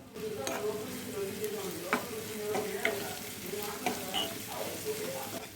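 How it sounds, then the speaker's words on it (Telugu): Chopped onions, curry leaves and slit green chillies sizzle steadily in hot oil, with a spoon scraping and stirring the pan every second or so, close and moderately loud. "నూనె వేసుకొని వేడెక్కిన తర్వాత ఒక కప్పు తరిగిన ఉల్లిపాయలను వేసుకొని రెండు రెప్పల కరివేపాకు ఎనిమిది పచ్చిమిర్చి చీలికలను వేసుకొని బాగా వేయించుకోవాలి"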